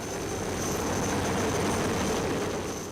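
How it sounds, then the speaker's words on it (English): A rescue helicopter in the Mont Blanc mountains drones steadily with a low rotor rumble and a faint high whine, fairly distant and unchanging. "the helicopter returns to the mountains to pick up the son"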